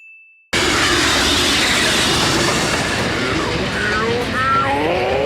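A train rushing along in a One Piece anime scene, a loud continuous roar of rolling wheels and rattling cars that cuts in abruptly after a brief tone, with faint squealing metallic accents later on.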